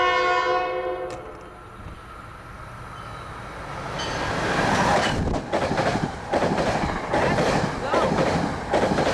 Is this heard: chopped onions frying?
no